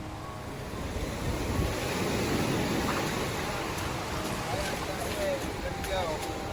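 Ocean surf washes steadily over sand on a seashore, a continuous broad hiss of waves with some wind buffeting the microphone, fairly close and moderate in level.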